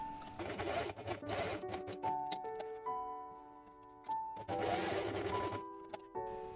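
A sewing machine stitches a felt bee pattern onto a quiet-book base page in short bursts of fast mechanical whirring, with brief pauses between runs and soft background music.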